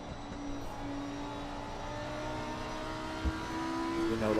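Onboard Lamborghini race car in a sim racing game at Suzuka, its engine holding a steady, loud drone throughout with a brief thump near the end and a slight rise at the close.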